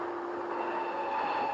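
A passing train in a 1937 film gives a steady rumbling rattle with a sustained tonal whine over it, continuous and moderately loud with no talk.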